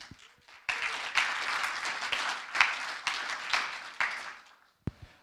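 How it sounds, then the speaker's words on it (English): Audience applause welcoming the jury at the Energy Tech Challengers 2023 grand finale, swelling suddenly after a brief quiet, holding steady for several seconds, then fading, with a single sharp knock near the end. "Let's welcome our jury members with applause"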